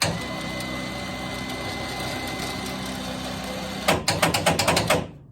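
An electric winch mounted on a rear bumper whirs steadily for several seconds, then rattles in a burst of rapid loud clanks as the loosely bolted unit shakes before stopping.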